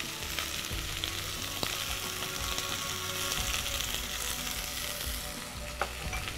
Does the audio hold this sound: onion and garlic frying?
yes